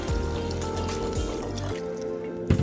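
About one and a half cups of water poured into a pot of softened onions for Bengali chicken thigh curry, a continuous close liquid rush that thins out toward the end.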